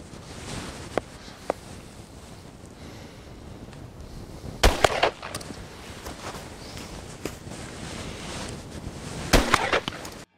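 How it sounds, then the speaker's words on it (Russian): Two loud shotgun blasts about five seconds apart, at roughly the five- and ten-second marks, fired on an outdoor shooting range at 35-metre targets with a standard choke, with quiet ambient noise between the shots. "Давай, ты первый стреляй, чтобы не вздрогнуть от выстрела."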